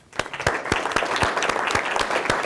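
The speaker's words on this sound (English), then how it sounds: "If we can give him a round of applause." An audience at a school dual-enrollment presentation claps in a brief burst of applause, a dense patter of many hands at moderate loudness.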